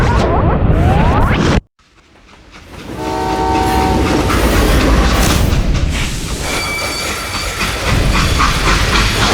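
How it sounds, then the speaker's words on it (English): A freight train in the Call of Juarez Gunslinger video game rumbles and clatters loudly on its rails and sounds a sustained horn, with a sharp boom and a brief drop to near silence early on. "They hopped a freight train"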